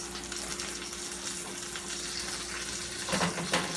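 Hot grease frying fish for a po' boy, a steady dense sizzle throughout with louder crackling bursts near the end, close and fairly loud.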